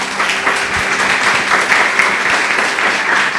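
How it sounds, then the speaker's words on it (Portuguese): Church congregation clapping together loudly and continuously, a dense, steady wash of many hands throughout, close and full. "Louve a Deus com as suas palmas bem forte"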